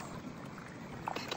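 A boat's motor runs steadily on a family trip out to Siete Pecados in Coron, a low, even engine hum blended with wind and water noise, fairly quiet throughout.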